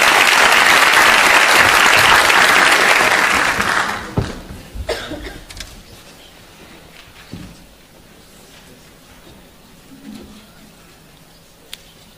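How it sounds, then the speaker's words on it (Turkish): An audience applauds to welcome a speaker onto the stage at an entrepreneurship event, a dense burst of clapping lasting about four seconds before dying away into scattered claps, a few coughs and a quiet room. "Ferhat Babacan'ı alkışlarınızla sahneye davet ediyorum."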